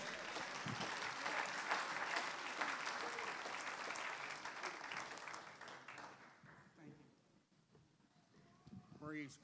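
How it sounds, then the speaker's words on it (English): A church congregation clapping hands in praise during an evening service, broad loud applause for about six seconds that fades out, followed by a quieter stretch where a voice speaks. "Give Jesus a hand clap of praise."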